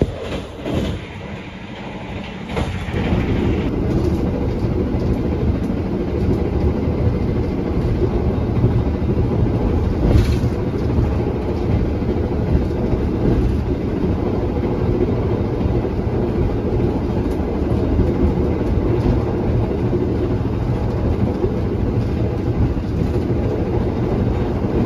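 KA Taksaka passenger train on the Jogja to Jakarta run, a loud, steady rumble with rolling clickety-clack of wheels that settles into an even roar after a brief quieter start.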